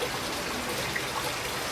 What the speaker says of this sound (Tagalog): Sayang yung tubig ulan.